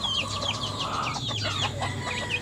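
Chickens cluck in short, repeated bursts close by, over a low steady background hum.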